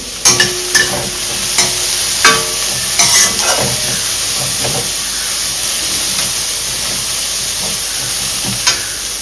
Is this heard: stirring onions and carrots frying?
yes